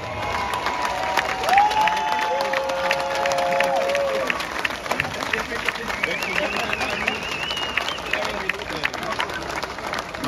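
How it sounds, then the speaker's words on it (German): A stadium crowd at an American football game applauds and cheers acrobats, a broad wash of clapping at a distance, while an announcer speaks over it. "Großen Applaus für die Akrobatiker"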